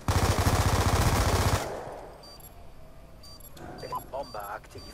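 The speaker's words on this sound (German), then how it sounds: "Ich höre hier schon die ganze Zeit irgendwas rumschießen" Rapid automatic gunfire in the Call of Duty Black Ops II multiplayer match on the Cargo map rattles loudly for about a second and a half, then fades to quieter distant shots under a man's speech.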